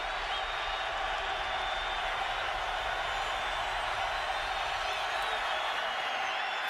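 A football stadium crowd cheers in a steady, loud roar that holds evenly throughout with no break.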